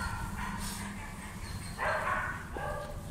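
A female shelter dog gives a few short yips and barks close by, mixed with low whimpering, while someone talks over the sounds.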